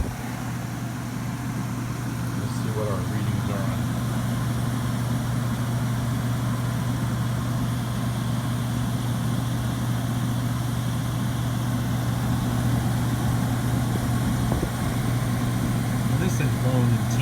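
A 1966 Fedders 20,000 BTU Weather Wheel air conditioner hums steadily with a constant low mechanical drone and airflow noise, running unchanged throughout.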